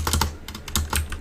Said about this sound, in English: The next command we'll type is sudo apt,